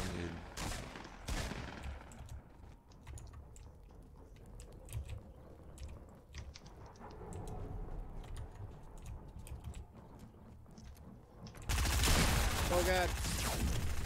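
Shooter video game gunfire, bursts of sharp rapid shots scattered through the clip, mostly moderate with quieter stretches between, then a loud dense volley near the end, with voices talking at times.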